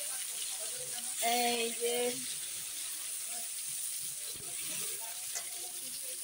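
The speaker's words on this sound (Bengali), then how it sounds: "আগে করলাই ভাজে নিই" Bitter gourd (karela) sizzles in hot oil with a steady, fairly quiet hiss, and someone speaks briefly over it.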